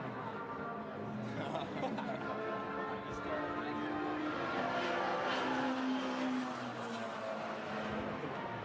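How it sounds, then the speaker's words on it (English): Classic sports cars race around the Brands Hatch circuit, a steady engine drone with rising and falling pitch sweeps running throughout, heard beneath commentary at moderate level. "on track, classic sports cars rather drown out the sound of the Italian national anthem of AF Corsa."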